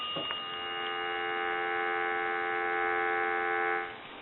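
A steady, buzzing telephone dial tone comes from a North Electric Gallion rotary phone. It holds evenly for about four seconds, then drops off.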